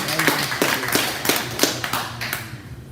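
Comedy club audience applauding, a dense burst of close hand claps that gradually thins and fades, with a voice over the clapping.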